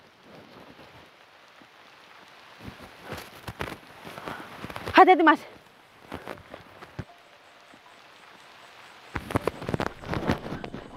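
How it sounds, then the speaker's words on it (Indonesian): Rain falls steadily throughout, with someone speaking briefly over it and louder bursts of movement and voices near the middle and end. "Kita lawan hujan ini."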